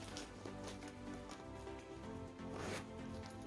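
Zipper drawn open on the small front pocket of a classic backpack, a close, quiet rasping pull heard alone.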